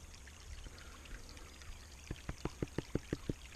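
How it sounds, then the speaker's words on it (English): Creek water tipped out of a prospecting bucket while panning for gold, starting as a soft wash and then turning into a quick run of splashy glugs near the end, close and fairly loud. "I'm going to tip this out again. Bit more water."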